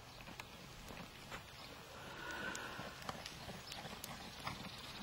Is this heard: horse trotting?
yes